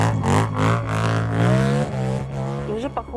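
Racing car engine revving loudly at the start of a sprint race, sustained rising pitch with rough harmonics, close and continuous, with crowd noise or talk faintly underneath.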